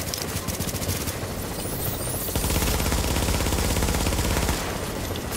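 Sustained rapid automatic gunfire from a firefight in the video game Tom Clancy's The Division, Dark Zone, loud and dense throughout with bursts overlapping, swelling heavier in the middle stretch.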